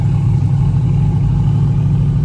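Turbocharged Chevrolet Tahoe pulling away, a heavy low engine rumble heard close and steady from inside or near the vehicle.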